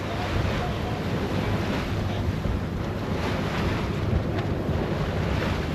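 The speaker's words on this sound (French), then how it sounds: "Donc là on a de la petite vague hein, on monte et on descend." Steady roar of wind buffeting the microphone over washing sea waves in a light chop, loud and constant, aboard a boat on open water.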